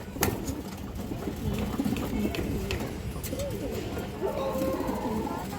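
Pigeons at a Bengali pigeon market cooing softly and steadily amid chatter and background bustle, with a few brighter coos rising near the end.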